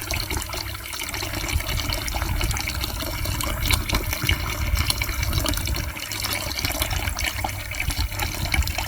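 Water from a tap linked to a connected garden watering system runs into a bucket below, a steady close gushing and filling rush that continues without pause and with no talk.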